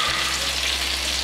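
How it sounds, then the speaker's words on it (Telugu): Fish rava fry in a pan of hot oil, a steady loud sizzle with an even low hum, continuous throughout with no talking. "ఫిష్ ఫ్రై అవ్వడానికి ఎక్కువ టైం పట్టదండి"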